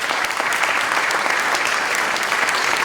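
Sustained applause from an Armed Forces Day audience in Shrewsbury greets state representatives, a dense, steady patter of many hands clapping close by for the full stretch with no voices over it.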